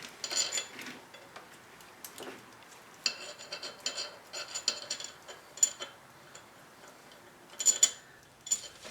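Head bolts on a 1999 Pontiac Grand Prix GTP are snugged down with a ratchet, giving quiet, irregular bursts of metallic clicking and ticking with short pauses between, close by and without talk.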